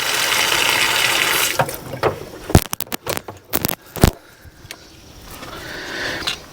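Water rushes through an RV's plumbing after a filter change, a steady broadband flow that sputters and bursts irregularly midway as trapped air clears, then settles back into a continuous stream.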